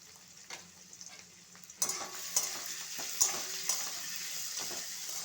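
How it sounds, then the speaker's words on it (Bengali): Chopped onion and garlic paste hit a hot pan, a quiet start jumping into a bright, continuous sizzle with several sharp spatters and stirring scrapes, heard close and with no talking. "পেঁয়াজগুলো একটু ভালোভাবে ভেজে নেব"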